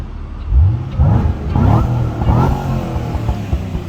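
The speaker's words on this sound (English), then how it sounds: "Let me see if I can catch you that tone a little bit so you can hear the exhaust." A supercharged 2010 Chevrolet Camaro SS V8 revs up in a few deep, throaty exhaust bursts, loud and close, rising and falling in pitch.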